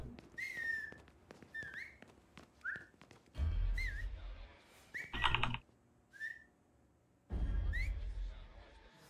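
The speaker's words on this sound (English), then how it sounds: "Let me whistle for these guys" Several short, rising whistles from a character in Mafia III, each note alone and fairly clear, spread across the clip between bursts of low thumping and clatter.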